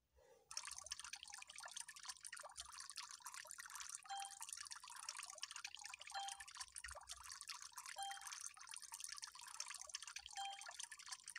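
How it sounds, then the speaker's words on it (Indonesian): Water sprays and drips steadily in a children's car wash video game as a dirty school bus is rinsed, a continuous soft hissing trickle with no talk. "Lalu kita siram pakai air."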